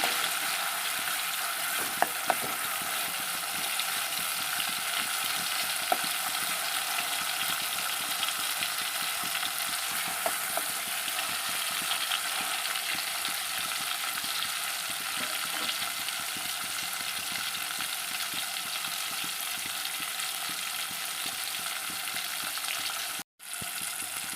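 Tomatoes frying for chicken sherva, a steady close sizzle and hiss from the pan throughout, with faint occasional pops and a brief cut near the end.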